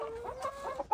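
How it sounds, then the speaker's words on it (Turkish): Chickens and roosters clucking in a village yard in Kocaeli, a few short, close clucks and soft calls in quick succession, fairly quiet. "Horozlar, tavuklar."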